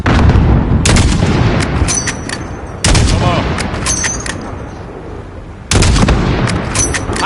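Heavy gunfire and mortar blasts in the Call of Duty shooter game, loud bursts of rapid shots in three long volleys, each starting with a sharp boom and rolling on.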